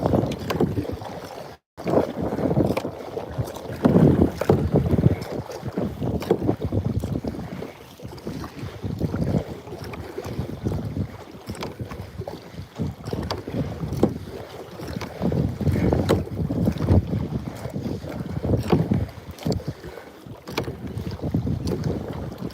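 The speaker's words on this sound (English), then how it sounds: "we're paddling faster." Paddling a kayak on a fishing trip: repeated splashy paddle strokes and water churning close by, with gusty wind buffeting the microphone throughout and no talking.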